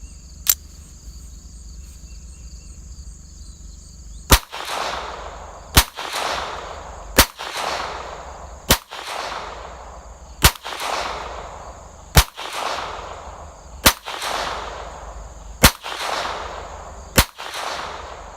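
A Smith & Wesson SW22 Victory .22 pistol fires standard CCI rounds outdoors: a dozen sharp, close shots in a steady rhythm roughly one to two seconds apart, each with a short echoing tail, over a faint insect buzz.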